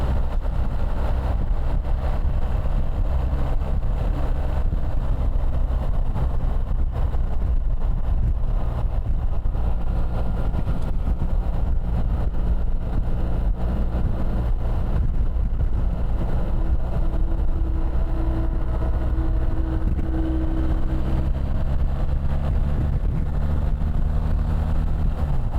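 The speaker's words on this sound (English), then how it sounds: "I'm going to let you enjoy a bit of the engine sound over here." A BMW R1300 GS adventure motorcycle's engine drones low and steady under heavy wind buffeting while riding, the pitch shifting slightly as the ride goes on, with no talking.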